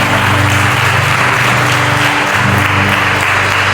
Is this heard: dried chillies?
no